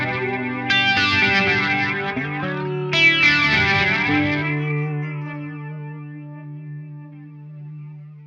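Electric guitar through a new PRS effect pedal, two strummed chords ringing out with chorus-like shimmer and distortion, then a long decaying sustain.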